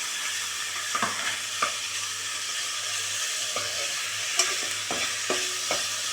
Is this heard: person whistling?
no